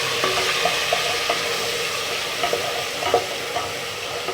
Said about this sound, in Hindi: लहसुन अदरक फ्राई हो जाएगा तो अब मैं इसमें टमाटर ये मैंने रफली काट लिए ये इसमें डाल दूँगी